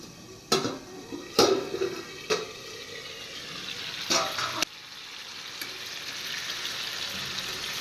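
Clinks of a lid and utensil against a pan of raw hilsa fish with roe cooking with ridge gourd, a few sharp metallic knocks, followed by a soft, steady sizzle of frying.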